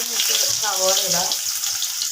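Sliced onions hitting hot sunflower oil with mustard seeds, a loud, steady close-up sizzle that continues throughout, with a voice speaking briefly over the frying.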